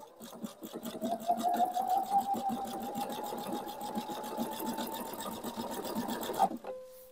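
A sewing machine stitching the seam of a fabric placemat, running at a fast, even rhythmic chatter with a steady motor hum for several seconds, close up, then stopping abruptly with a brief whir.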